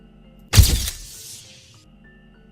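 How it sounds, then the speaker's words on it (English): Glass shatters in one loud, sudden burst: a bright crash that trails off into a ringing tinkle of falling fragments over about a second, with quiet hum before and after. "the shatter of breaking glass"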